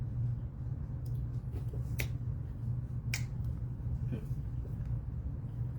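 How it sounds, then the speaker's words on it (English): Several sharp finger snaps ring out at irregular intervals over a low, constant rumble, close and crisp. "All you did was snap your fingers and move your hips"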